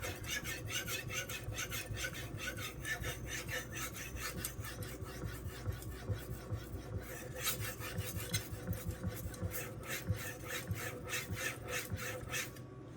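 A knife blade is sharpened on a Suehiro Debado whetstone of 600 and 1500 grit, with quick, regular back-and-forth rasping strokes repeating close up at an even rhythm, fairly quiet and with no talking.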